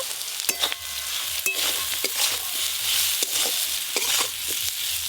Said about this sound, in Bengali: গুঁড়ো মশলা দেওয়ার পর খুব বেশি নাড়বো না, একটু হালকা করে নেড়ে নিয়েছি